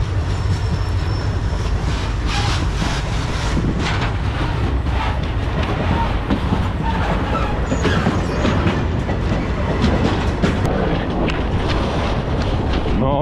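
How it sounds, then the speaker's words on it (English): A train rushes past in Morocco with continuous loud rumbling and rhythmic clatter of wheels, buffeted by heavy wind noise on the microphone throughout. "the train was way too fast, we couldn't catch it"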